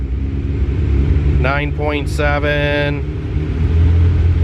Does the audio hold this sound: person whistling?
no